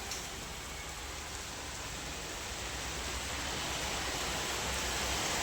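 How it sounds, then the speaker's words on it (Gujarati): Rain falls steadily in a continuous, even hiss of drops on surfaces, moderately faint and alone, swelling slightly toward the end. "વરસાદ ચાલુ થઈ ગયો છે, ફૂલ મસ્ત મજાનો"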